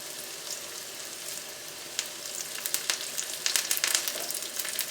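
Onion, garlic, ginger, curry leaves and green chili sizzle steadily in hot oil for a squid roast, a soft continuous hiss that turns busier and more crackly toward the end, with no voices.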